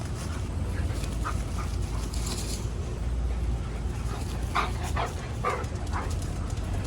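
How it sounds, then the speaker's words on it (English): Puppies playing in a backyard, with scattered small yips and bow-wow barks over steady low outdoor rumble, fairly faint and intermittent through the scene. "puppies. What the heck? Why must you play right here?"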